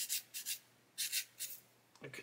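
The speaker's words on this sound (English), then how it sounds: "I am going to literally use a sanding stick to remove them." A sanding stick rubs nibs off a plastic part of a HobbyBoss 1/35 Scammell Commander model kit: several short, dry scraping strokes in quick bursts, close and fairly quiet, with no talking.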